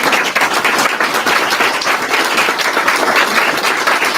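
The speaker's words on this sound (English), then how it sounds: "we can get a round of applause for the" Steady audience applause at a candidates forum in Waldoboro, a dense, even patter of many hands clapping continuously and fairly loudly throughout, with no break.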